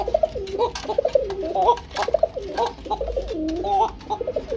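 A pair of Kuka fancy pigeons coo up close in repeated rolling, wavering phrases, calling back and forth steadily with faint background noise and no talking.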